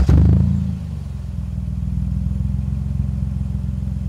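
Car with an exhaust damaged by running over a parking barrier, a loud low rumbling engine close by, a sharp rev at the start settling into a steady throbbing drone.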